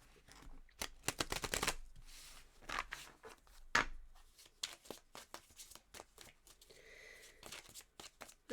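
Tarot cards shuffled by hand for a card reading, a quick run of crisp riffling flutters and soft slaps in uneven bursts, close and fairly quiet, with no voices.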